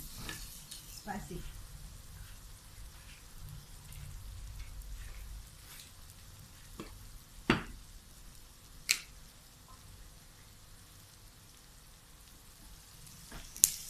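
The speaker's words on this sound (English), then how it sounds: "I'm still cooking at slow heat because I want to cook them dry" Pork cracklings fry slowly over low heat for chili paste, a soft continuous sizzle with occasional sharp pops and stirring sounds, while someone talks faintly over it.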